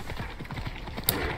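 Horse hooves gallop in rapid, rhythmic clip-clop beats during a horseback hunt in Assassin's Creed Odyssey, close and steady with a brief sharp click partway through.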